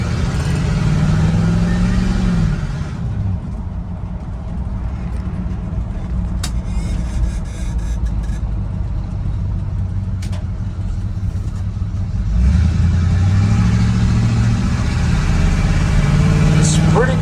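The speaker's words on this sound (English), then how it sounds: "It's a pretty doggone smooth running truck." Engine of an old abandoned project truck with a 4-speed top loader transmission idles steadily and smoothly, rising in two clear revs near the start and end, loud and close under faint background voices.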